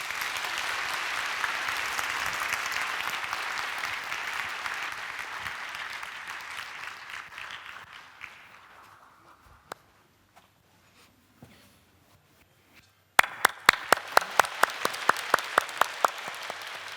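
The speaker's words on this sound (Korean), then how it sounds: "큰 박수로 환영하겠습니다." A church congregation applauds to welcome a speaker giving a testimony, steady clapping that fades out, a near-silent gap, then a fresh burst of close, sharp individual claps.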